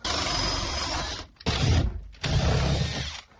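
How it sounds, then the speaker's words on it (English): A dull auger bit bores through a 2x4 stud in a shed, the drill roaring loud and close in three bursts separated by short pauses where the motor cuts out. "I ended up hitting the 2x4 stud back there a couple times, and my auger bit is getting really dull"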